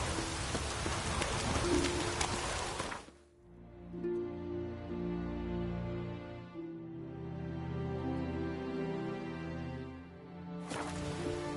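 Broadband rain-like hiss at the start and end of a PS4 game broadcast, broken in the middle by a tonal, droning stretch; the downpour sounds loud and close, with no one talking.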